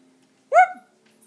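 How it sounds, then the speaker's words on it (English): A pet dog gives a single short, sharp bark that trails into a brief whimper, close by against an otherwise quiet room. "That was my dog, Weiser."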